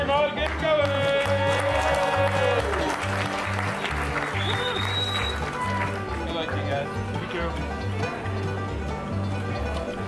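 An audience at the Big Texan restaurant cheers and applauds as a 72 oz steak eating challenge begins, a sustained noisy clatter of clapping mixed with music and voices.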